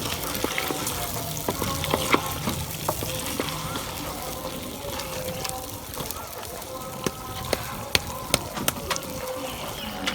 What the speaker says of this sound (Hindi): आलूओं को भी हम अच्छी तरह भून लेंगे।